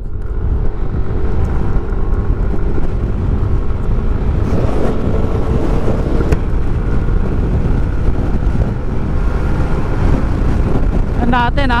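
A stock Yamaha Aerox 155 scooter runs at top speed, its engine a steady loud drone mixed with heavy wind rush against the microphone throughout, with brief chirps near the end.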